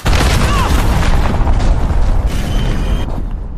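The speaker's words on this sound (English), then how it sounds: "Enemy cruise missile incoming." Heavy explosion from a cruise missile strike in the Modern Warfare video game, a loud booming blast that fills the whole clip with dense rumble and debris noise before easing slightly at the end.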